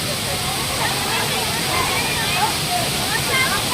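Areekkal waterfall in a village setting, a steady broadband roar of rushing, falling water filling the scene throughout, with faint voices murmuring beneath it.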